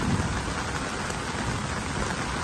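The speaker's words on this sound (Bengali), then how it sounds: "দেখুন এই সেই প্রচন্ড বৃষ্টির ঝলক এবং এই রিমঝিম যে বৃষ্টির সুরে যে পানির শব্দ" Heavy rain pours over a garden house, a dense, steady hiss of drops striking leaves and pooled water, close and loud, with no voices.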